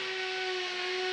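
A furnace is being replaced indoors, giving a steady, even mechanical whine with a sustained tone that holds unchanged through the brief moment, heard alone.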